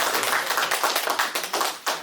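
Church congregation clapping at a New Year thanksgiving service, a dense steady patter of many hands that carries on for the whole short stretch with no talk over it.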